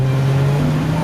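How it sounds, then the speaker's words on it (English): A Dodge car speeding off at the start of a police chase, a loud steady engine drone with a sustained low hum, close and continuous with no talk. "he reached back inside, threw the Dodge into gear, and sped off"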